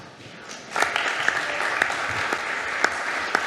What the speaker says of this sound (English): I think a round of applause was very appropriate